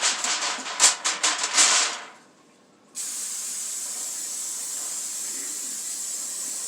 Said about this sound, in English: Spray it where it don't stick to the top.